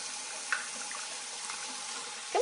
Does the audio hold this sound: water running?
yes